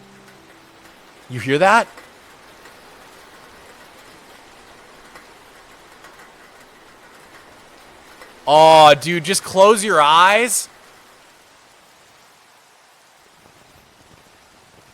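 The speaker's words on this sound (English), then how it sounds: "listen to the rain sounds this mod adds" Steady rain patter added by a Minecraft mod plays throughout the game scene, soft and continuous, with a voice briefly speaking over it twice.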